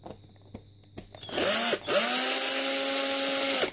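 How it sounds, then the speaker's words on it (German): A cordless drill driver unscrewing the casing of a Volks Bedini device, with a few light taps and then a loud motor whine that briefly stops and restarts before running steadily, close up. "Also wenn ihr mit Akkuschrauber hier den Bedini aufschraubt, seid bitte sehr vorsichtig."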